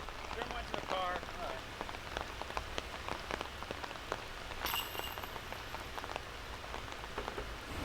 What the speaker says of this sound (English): And the rain is not letting up